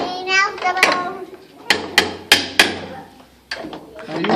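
A child strikes with a toy hammer at a children's museum, giving a series of sharp, irregular whacks close by, mixed with a child's and an adult's voices talking.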